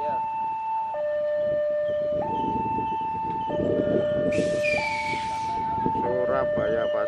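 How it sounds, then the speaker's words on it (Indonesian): Jayabaya passenger train on the Surabaya–Pasar Senen route passing Babat station, a loud two-tone warning bell or siren alternating steadily over the rumble of rolling cars, with a brief hiss and a wavering horn-like tone near the end. "Surabaya Pasar Senen kereta api Jayabaya guys."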